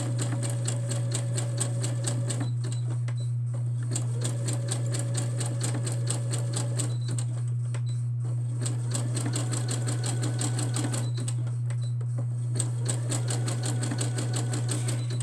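A sewing machine stitches fabric pieces for a tissue holder, running steadily with a fast, even needle rhythm and a few brief pauses where the motor stops and starts again; close and loud with no talking.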